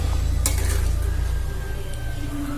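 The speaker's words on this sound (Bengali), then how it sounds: "এবার একটু নাড়াচাড়া করে নেব।" Malai matar paneer curry stirred in a pan, a spoon scraping and clinking against the metal with a sharp clatter near the start, over a continuous low simmer and sizzle.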